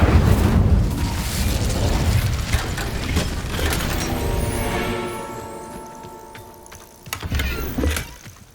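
A fire spell cast in Hogwarts Legacy erupts as a loud, roaring burst that swells, then fades into a humming, ringing tail before a second shorter flare near the end.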